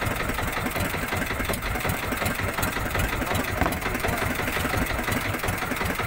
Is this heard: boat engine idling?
yes